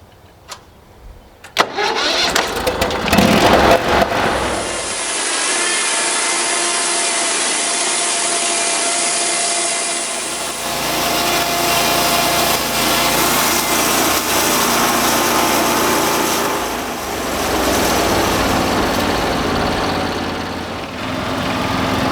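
A bandmill cuts a slab off a log with a loud, steady, continuous whine and rumble. It starts with a motor spin-up and then holds through a long, even cut, with no voices.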